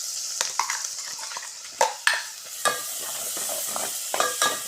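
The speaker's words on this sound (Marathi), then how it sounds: "त्याला तेल सुटोपर्यंत छानसं परतायचं." A ground spice masala is stir-fried in oil, with a soft sizzle broken by irregular scraping stirs and clinks of a utensil against the pan, close up and without talk.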